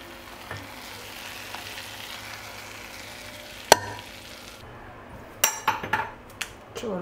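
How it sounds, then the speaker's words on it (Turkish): Prepared mint is poured into a pot of soup, setting off a soft steady sizzle with a sharp clink of a utensil and a few clattering knocks of cookware near the end. "Hazırladığım naneyi döküyorum."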